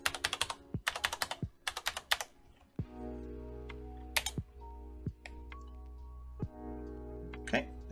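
Bursts of keystrokes on a computer keyboard as a Wi-Fi password is typed during Klipper setup on an Orange Pi, in quick clustered runs with a few isolated taps and a steady background hum.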